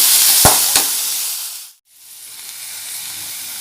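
Chopped tomato and garlic sauté in a hot pan for a bitter gourd side dish, with a loud, dense sizzle and a couple of stirring knocks. The sound cuts out briefly, then a softer hiss resumes.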